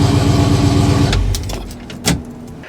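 An old car that had sat unused rumbles close by after a jump start, then the engine note drops away, leaving a few light clicks and a short clunk, with no talk.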